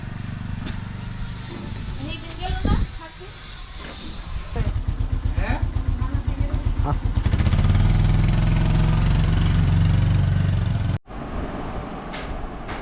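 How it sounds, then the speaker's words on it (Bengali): A motorcycle engine idles and revs nearby with a steady throbbing rumble, building louder midway before cutting off abruptly near the end, while people talk over it. "বহুত দিন পরে বাইক চড়তেছে।"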